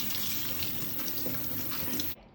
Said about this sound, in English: So give it a rinse after you've drained it.